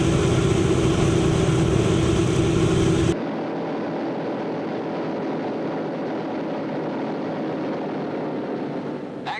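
A B-17 bomber's radial engines drone loudly and steadily during a ground run-up magneto check, with a sudden drop in level about three seconds in as power comes back, then a lower continuous rumble.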